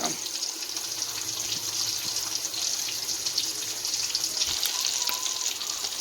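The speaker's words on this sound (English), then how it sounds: "while my pork chop is frying" Pork chop frying in a pan for smothered pork chops, a steady bright sizzle running evenly throughout, close and continuous with no talking.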